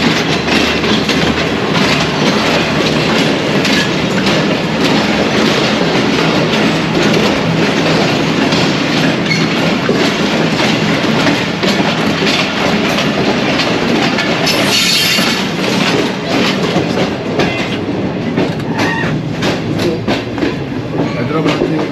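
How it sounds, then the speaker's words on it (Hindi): Shalimar Express passenger train rolling into Hyderabad Junction, with loud, steady wheel rumble and rhythmic clickety-clack on the rails, a brief squeal partway through, and faint voices in the background. "ट्रेन हमारी हैदराबाद जंक्शन अप्रोच बना रही दोस्तों, हैदराबाद पहुंच चुकी।"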